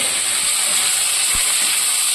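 Cut potatoes sizzle in hot white oil with a green chilli, a steady bright hiss of frying with a faint soft knock partway through, close and continuous with no talking.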